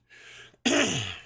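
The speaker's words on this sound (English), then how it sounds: "I got a little cough this morning." A man clears his throat close to the microphone: a brief rasp, a short pause, then one loud, harsh cough that trails off.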